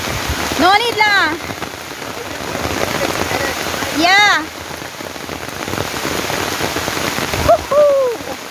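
Steady, dense rain pattering on surfaces in a Singapore nature park, with a few brief high, voice-like whoops rising over it.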